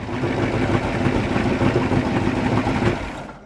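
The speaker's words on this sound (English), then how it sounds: "I think we're ready for a test drive on the front motor." A race boat's front motor runs on test, a steady rumbling idle with a rough low-frequency throb, close and continuous with no talk.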